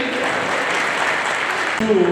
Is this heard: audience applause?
yes